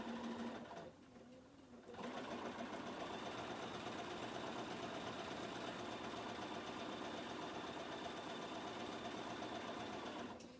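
A sewing machine runs steadily while stitching log cabin quilt strips, with a continuous whirring hum. The hum starts after a brief pause near the start and holds even and close for about nine seconds.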